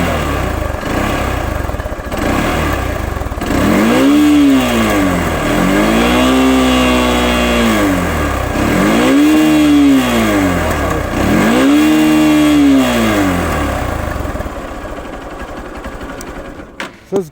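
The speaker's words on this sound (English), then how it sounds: "So it's got this nice and sporty exhaust note," Hero Xtreme 200R 200cc sports motorcycle revved repeatedly up close, with four rising-and-falling throttle blips over a loud steady idle and a sporty exhaust note, then settling back to idle with no talk.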